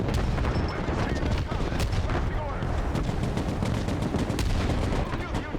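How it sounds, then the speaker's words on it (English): Artillery fire in the strategy war game Broken Arrow: a dense, continuous barrage of loud booms and rapid gunfire crackle, with no pause, and voices faintly underneath. "The artillery is kicking our ass."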